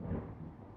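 Low, rumbling roll of thunder from a storm at night, a brief faint-to-moderate rumble with no voices.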